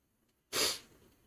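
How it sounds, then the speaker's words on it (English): A single loud, close sneeze bursts out after a moment of near silence, with a short breathy tail, during a live radio broadcast of a college baseball game between LSU and Southeastern. "I'm still sneezing."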